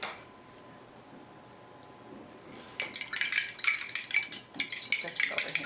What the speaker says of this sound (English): So into this milk I'm going to crack an egg. And I'm just going to whisk it.